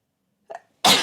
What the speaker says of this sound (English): I'm gonna sneeze, sorry.